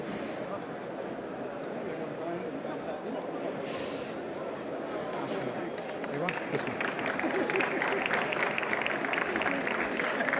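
Audience applause at a business forum's industrials and logistics session, a broad wash of clapping that swells louder partway through, with voices mixed in beneath it.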